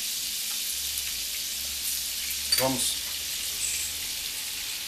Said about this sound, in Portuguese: Agora nós vamos derreter essa manteiga.